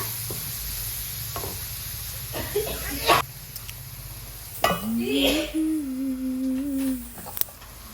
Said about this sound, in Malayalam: ഞാൻ കുറച്ച് ഉപ്പ് ആഡ് ചെയ്തിട്ടുണ്ട് അതിനുശേഷം നമ്മൾ ജസ്റ്റ് ഒന്ന് ഇളക്കി കൊടുത്തിട്ട് ജസ്റ്റ് മൂടി വെക്കാം